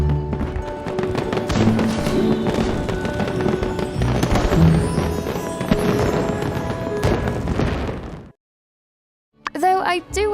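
Fireworks exploding in the video game My Time at Sandrock, a dense run of popping bursts and thuds for about eight seconds, then silence, then a voice briefly speaking.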